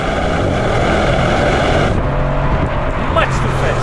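Audi RS7 with 800 Newton meters accelerating hard in second gear into a corner, a loud, close engine roar that shifts in pitch midway, with no talk over it.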